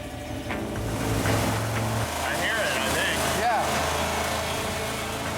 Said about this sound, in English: That penny is taking a pounding, but the engine's still running.